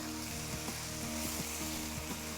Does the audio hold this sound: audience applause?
no